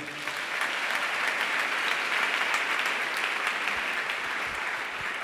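Sustained applause from a church congregation at a pastor's Sunday morning service, a steady dense wash of clapping hands throughout with no voices standing out.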